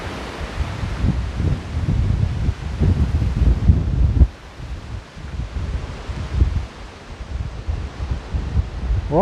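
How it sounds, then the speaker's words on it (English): Wind gusting and buffeting a microphone outdoors beside a golf course, a steady low rumble with irregular louder bursts that ease briefly partway through, with no speech. "Just hope the wind goes and dies down tomorrow."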